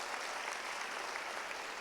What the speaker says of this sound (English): So another round of applause to Scott for,